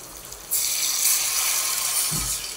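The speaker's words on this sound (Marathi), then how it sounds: "त्यानंतर आपण पाणी टाकूया" Water is poured into a hot tempering pan of chillies while making khaman dhokla, a sudden steady hissing sizzle and splash that continues for a couple of seconds.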